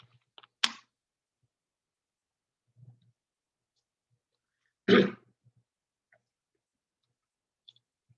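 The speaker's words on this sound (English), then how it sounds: "Clear my throat" A single short, sharp throat clearing, close and fairly loud, breaks an otherwise quiet moment during an online class session. A few faint ticks and clicks sound on either side, and no one speaks.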